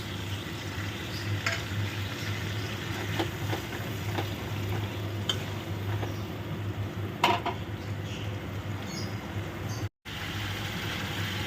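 Ginger, cumin and green chili paste sautéing in a pan gives a steady low sizzle, with scattered scrapes and clinks of a spatula against the pan and a brief dropout near the end, no talk.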